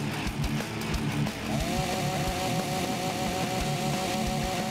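A chainsaw in the Walking Zombie II video game revs up and holds a steady, buzzing whine amid thumping game sounds.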